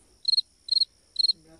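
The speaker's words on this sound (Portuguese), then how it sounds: "Hora do grilo." A cricket chirps close and clear in three evenly spaced pulsed bursts over near silence.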